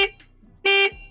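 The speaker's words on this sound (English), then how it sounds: "Horn sounds like this." Horn of a Triumph Thruxton 400 motorcycle, one short loud electric beep near the microphone after a faint click, with a low idle hum beneath.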